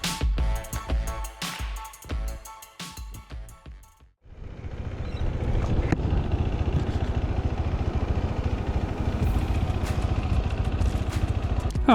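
KTM 390 Adventure motorcycle riding on the road, with a few seconds of choppy engine and wind noise, then a steady, close, continuous engine drone with rushing wind.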